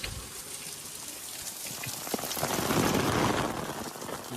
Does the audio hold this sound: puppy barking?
no